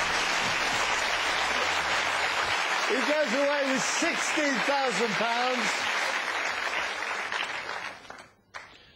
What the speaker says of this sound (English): Okay, give Kevin Wright a huge round of applause.